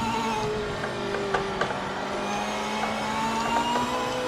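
Race car engines droning steadily in the Project Motor Racing game, cars in a pack chasing a Mustang on track, with sustained engine tones rising and falling plus a few brief clicks and thumps, no talk.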